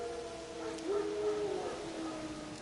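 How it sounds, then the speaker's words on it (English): Wild dogs howl in a video game, a drawn-out wavering cry rising and holding at mid distance over faint ambient background, with no talk. "No. Wild dogs."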